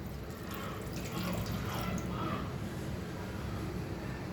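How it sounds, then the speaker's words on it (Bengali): A steady, close splash of water fills a cooking pot of vegetables being boiled for a Bengali potato and mango dish, a continuous gurgling pour lasting several seconds. "আর একটু জল দেবো, জলটা কম হয়ে যাবে জলের পরিমাণটা, কারণ সবজিটা সিদ্ধ হওয়ার জন্য আমি আর একটু জল দিলাম"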